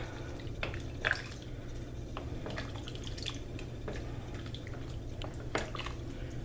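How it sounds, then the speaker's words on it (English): Potato soup with parsley and butter is stirred in a pot, making soft, irregular wet sloshes and drips. The sounds are quiet and close, over a low constant background hum. "So I'm just going to give this a quick stir."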